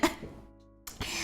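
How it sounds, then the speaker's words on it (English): A person who is sick with a sore throat gives a sharp cough followed after a short pause by a second rough cough, close up in a quiet room. "I'm also currently still coughing."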